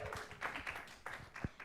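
Audience clapping for a reader at a literary expo, a scattered round of hand claps, fairly faint and brief, with one sharper clap near the end.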